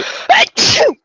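Two sharp sneezes in quick succession, close and loud, the second longer and trailing off, with a softer breathy sound just before them and silence after.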